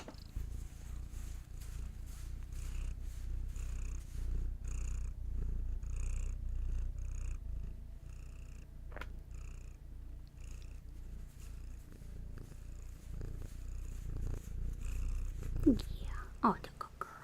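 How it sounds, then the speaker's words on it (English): A cat purrs steadily and close by for most of the stretch, a soft continuous rumble with quiet voices murmuring around it and a few brief knocks near the end. "Do you have any purrs for us today?"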